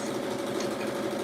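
Sewing machine stitching around a pocket on sweatpants, a steady, loud mechanical whir with a fast even needle rhythm, running without pause.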